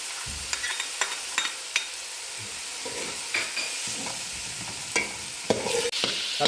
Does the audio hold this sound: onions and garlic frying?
yes